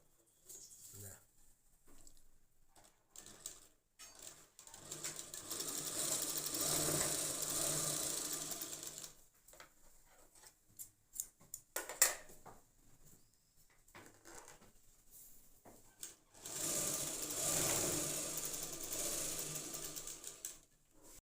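A sewing machine stitches a blouse lining in two clear bursts of steady whirring, heard close. Quiet gaps between the runs hold faint handling clicks and a little speech.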